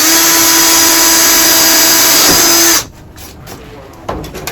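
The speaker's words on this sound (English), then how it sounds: "So I need to drill a 10mm hole, but I'll start with like a smaller hole" An electric drill bores a small pilot hole ahead of a 10mm hole: a loud, steady whine for about three seconds, then it stops, leaving quieter handling noises and clicks.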